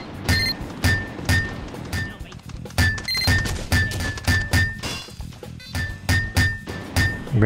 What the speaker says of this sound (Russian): я могу быстро уничтожить турель с помощью бейсбольной биты?